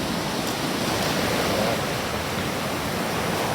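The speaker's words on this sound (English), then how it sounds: "These waves are rolling in." Ocean waves roll onto a rocky beach on Cape Breton Island, Nova Scotia, as a steady, loud, broadband wash of surf with no gaps or voices.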